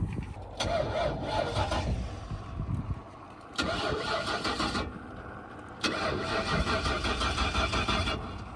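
An inexpensive jet boat's engine is started in repeated attempts: it cranks and catches in bursts, drops briefly between tries, then runs rough and loud up close.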